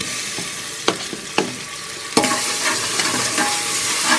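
Ginger and garlic frying with onions in a pan for little millet tomato rice: a steady sizzle broken by several sharp scrapes and clacks of a stirring spoon.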